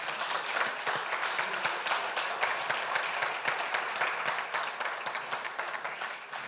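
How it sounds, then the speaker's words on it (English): Audience applause after a conference talk: dense, sustained clapping from a sizable crowd that stays steady and then tapers slightly toward the end. "Please give him a round of applause."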